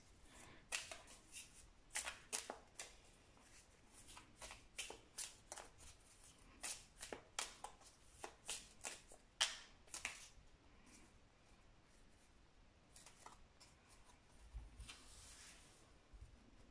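A deck of tarot cards being shuffled by hand close up: bursts of crisp riffling and flicking in irregular clusters, with quieter pauses between, fading toward the end.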